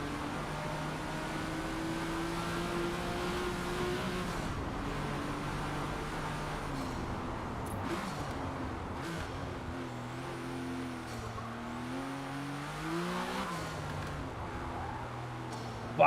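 A Mercedes CLK engine in the Forza Motorsport racing game revs and drones steadily, its pitch rising and falling through gear changes, heard at moderate level for an extended stretch with faint background noise.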